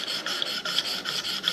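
A knife blade is drawn across the 600 grit stone of a KME sharpener while its bevel is refined, giving quick, repeated raspy scraping strokes that are close and fairly quiet, with no talking.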